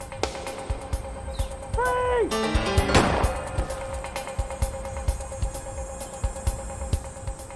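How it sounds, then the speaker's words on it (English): Police officers fire gunshots at a fleeing suspect, giving sharp, distinct reports in a spaced irregular series at moderate distance over background noise, with a wailing siren tone in the middle. "The officers shot Knowles"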